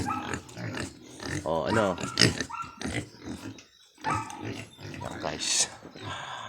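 Piglets grunt, snort and squeal close by after feeding in a pen, in busy overlapping bursts, while someone speaks over them.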